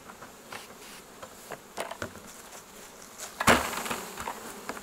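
Honeybees shaken from brood frames at an apiary make a faint, continuous buzzing hum, punctuated by scattered knocks and taps of the frames, with one louder thud and scrape near the end.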